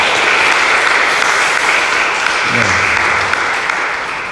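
A church congregation claps steadily and densely, a loud, continuous wash of applause that holds without a break for several seconds.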